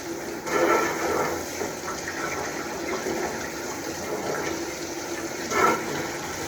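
A processed farm rooster being washed under running water, a steady gush and splash with louder surges near the start and end, close by and without talk.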